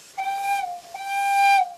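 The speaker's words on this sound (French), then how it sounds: "Maintenant, 2 coups de sifflet en avant." Two long, loud blasts from the steam whistle of a Train des Pignes locomotive in Provence, each holding a steady, hissing tone for most of a second with a brief gap between them and no voices.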